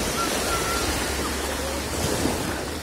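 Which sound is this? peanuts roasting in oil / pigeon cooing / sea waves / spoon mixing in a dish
sea waves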